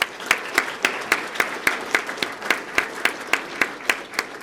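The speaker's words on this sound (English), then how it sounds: "So let's give her a round of applause." Rhythmic applause in a steady beat, about four claps per second, sounding like a small group clapping in unison nearby at a police swearing-in ceremony.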